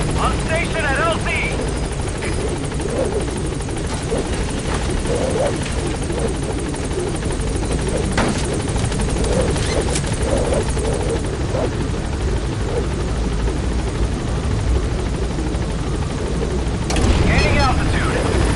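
Pequod, the support helicopter in Metal Gear Solid V: The Phantom Pain, arriving at a landing zone, its steady rotor drone loud and constant throughout, with a brief surge near the end.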